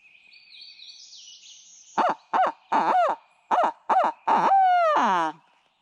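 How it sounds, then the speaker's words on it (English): Six short, hoarse owl hoots come in a loose sequence from a quiet South Carolina Piedmont woodland at dawn, the last ones longer and drawn out, with a thin high whine early on. "I've got owls talking to me."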